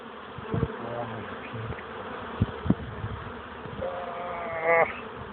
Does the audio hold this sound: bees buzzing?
yes